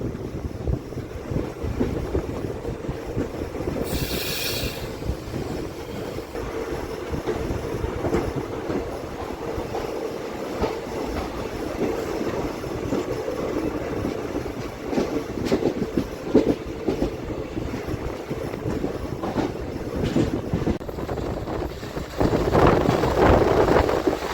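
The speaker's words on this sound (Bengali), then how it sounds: "আমাদের এই ট্রেন এখন নারাঙ্গি স্টেশন থেকে ডিপার্চার করে নিল" A Guwahati–Ledo passenger train pulls out of Narangi station, its wheels rumbling and clattering steadily over the rails from start to finish, with the noise swelling louder near the end.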